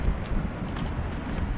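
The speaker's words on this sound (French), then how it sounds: "là j'ai le vent dans mon dos. Donc pas trop de vent au niveau du son, je pense" Heavy wind buffets a GoPro Hero microphone outdoors while someone walks, giving a loud, continuous low rumble with constant fluttering gusts and no speech.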